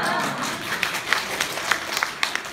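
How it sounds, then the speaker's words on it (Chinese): Applause from the audience at a Chinese church family Christmas party in Hamilton, New Zealand: a dense patter of clapping over a noisy hall, with a few sharper claps standing out. "您看各位鼓掌了"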